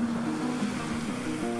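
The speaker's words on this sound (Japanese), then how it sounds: "うねりとうねりの間隔がしっかり空いていて良質なうねりではありますね。" Early-summer swell from the Sea of Japan breaks at the shore on a calm morning, giving a steady, moderately faint wash of surf throughout with a low tonal hum underneath.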